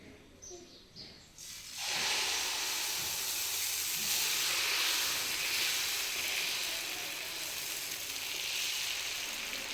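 Dosa batter hits a hot griddle (hench) and breaks into a loud, steady hiss and sizzle that starts abruptly after a brief quieter moment and continues evenly to the end.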